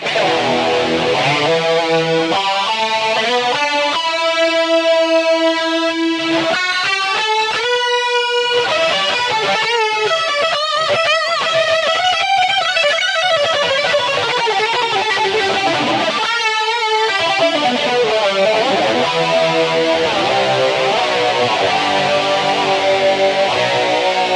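Telecaster fitted with DiMarzio Super 2 pickups, run through a BOSS eBand JS-10 distortion for a 1980 tone, plays loud sustained lead lines and bends with dense distorted chords, steady and alone.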